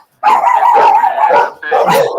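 A dog gives a loud, sustained whining, howl-like bark lasting about two seconds, with a steady tone that wavers and pauses once briefly.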